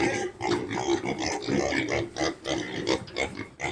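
Piglets on a farm grunting and squealing in a busy, overlapping chorus, close by and fairly loud, with short bursts coming one after another.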